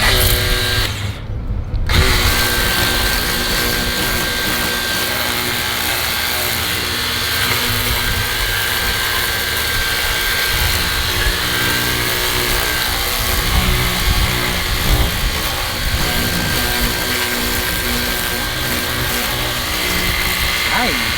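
A self-priming cordless pressure washer running on its turbo setting gives a loud, steady mechanical whine and hiss from start to finish, with a brief dip near the start and voices heard alongside.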